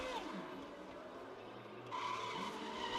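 Audi race car in a racing video game at Bathurst skidding off the track, a steady grinding tire-and-engine roar that swells louder toward the end, with no speech over it.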